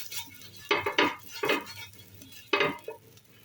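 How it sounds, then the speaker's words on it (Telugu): Oil being spread with an onion on a hot dosa pan for tomato dosa. Several short scraping, rubbing strokes with faint sizzling and light clinks of the pan, close up and without speech. "పెన్నం వేడైన తర్వాత 1/2 టేబుల్ స్పూన్ ఆయిల్ వేసుకొని ఆనియన్తో ఇదంతా స్ప్రెడ్ చేసుకోవాలి"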